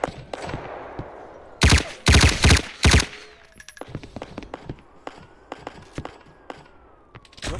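Video game gunfire sounds in loud, rapid bursts of automatic shots up front, followed by scattered quieter shots and clicks, with faint voices.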